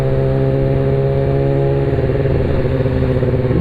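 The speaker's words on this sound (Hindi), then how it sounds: "इसमें रिसेंटली हमजा भाई ने एग्जॉस्ट चेंज किया और जिसके बाद ये बहुत लाउड हो गया, कुछ ज़्यादा ही लाउड।" Yamaha R6 600cc sport bike fitted with a short Austin Racing exhaust can, idling loud and raspy up close before its steady drone rises and climbs in pitch as the engine is revved.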